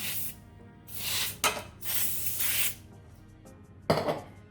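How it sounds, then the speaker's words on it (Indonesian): Cooking oil sprayed onto a baking pan in a few short bursts, each a close, breathy hiss of about half a second to a second, separated by quiet gaps, with no talking. "Ini pennya saya semprot dengan minyak sedikit."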